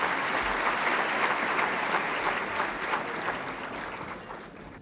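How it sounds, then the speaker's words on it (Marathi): A hall audience gives a loud, sustained round of applause for a district collector, a dense, even wash of many hands clapping that fades slightly at the close. "त्यांच्यासाठी आपण एकदा जोरदार टाळ्या वाजवत."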